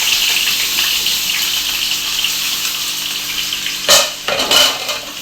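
Cut potatoes go into a pot of cooked dal, with a steady bubbling hiss throughout and two sharp splashing clatters near the end as they drop in.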